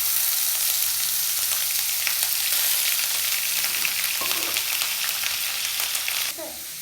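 Onion paste frying in a pan as the base for a rui fish and eggplant curry, a loud, steady, close hiss of sizzling oil with faint stirring, ending in a short clatter.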